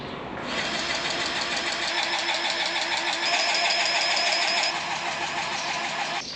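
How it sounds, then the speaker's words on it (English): Tractor engine running on a hay farm, a steady loud mechanical rumble with a knocking texture that rises after a brief start and holds close by with no talk. "tractor's running good today."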